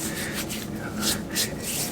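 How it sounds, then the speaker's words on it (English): Flour-dusted fingers rubbed together while making pizza dough, giving a soft, dry, papery friction in short repeated bursts, close and fairly quiet, with no talking. "if you need to get that flour off your fingers, you can just rub it off with using some flour"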